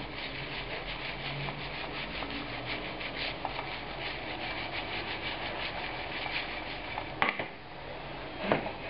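Potato pieces coated in melted butter on a pan, a steady scraping and rubbing of utensil against metal with a couple of sharper clanks near the end.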